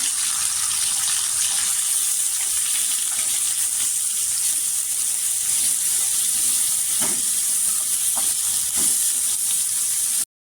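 Chopped onions with fresh curry leaves fry in a pan, a dense, steady sizzle that holds evenly throughout with a few soft stirring knocks, ending abruptly, no voices.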